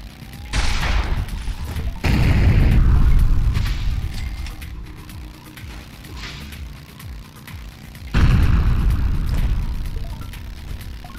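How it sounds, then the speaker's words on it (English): Heavy booming explosions from pipe bombs in the motorcycle combat game Road Redemption, two loud rumbling blasts a few seconds apart, each decaying into a long, dense roar over constant game noise. "this is some bullshit with the guy that drops the pipe bombs"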